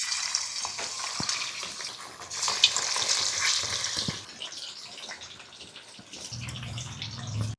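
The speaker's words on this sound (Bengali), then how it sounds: "এবারে এই চিকেনটা ফ্রাই করে নেব।" Chicken breast frying in plenty of white oil in a wok, with a bright, steady sizzle that is loud at first and then settles lower, punctuated by a few sharp utensil taps.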